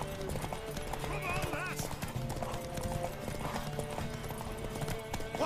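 Horse hooves clip-clop in a steady galloping rhythm in The Witcher 3: Wild Hunt, with a short whinny partway through and a voice calling out over the hoofbeats and game music.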